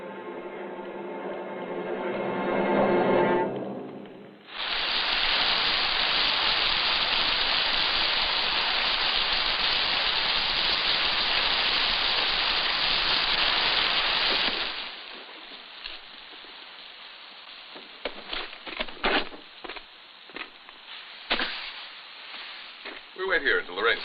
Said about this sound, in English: We wait here until the rain stops.